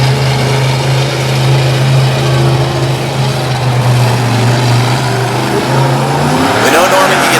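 The Bigfoot 18 monster truck, with a big Ford engine, revs loud and sustained at an arena show, its roaring engine note rising near the end while an announcer talks over it.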